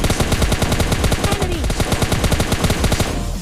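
Rapid automatic gunfire from the mobile shooter PUBG Mobile Lite rattles in loud, continuous bursts with evenly spaced shots, close and dominant throughout, briefly thinning near the end.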